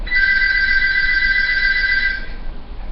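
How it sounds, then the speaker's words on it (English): A telephone rings once in a steady, shrill electronic tone that lasts about two seconds and then stops, leaving quiet room noise. "that was the phone."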